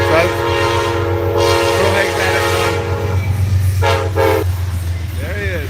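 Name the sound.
Amtrak passenger train passing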